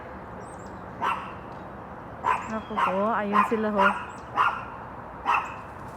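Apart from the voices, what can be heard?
dogs barking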